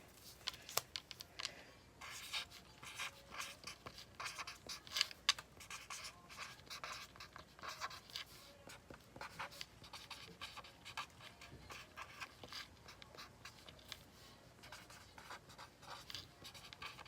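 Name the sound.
writing a message down by hand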